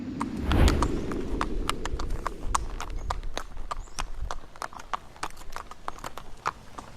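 Horses carrying riders clip-clop along a road in British Columbia, a steady run of sharp, evenly spaced hoof strikes that stays close and clear over a low rumble, with no talking.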